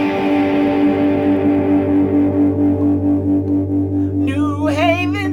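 An electric guitar plays sustained distorted power chords for a song, ringing steadily and loudly, with a brief higher bending lick near the end.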